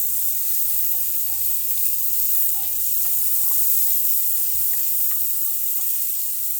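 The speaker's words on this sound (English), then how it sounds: "Get the andouille and the onion cooking a bit." Andouille sausage and onion fry in a cast iron skillet cooking outdoors on a deck, producing a continuous bright sizzle with a few light stirring taps, close and steady.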